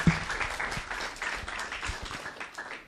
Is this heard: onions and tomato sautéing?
no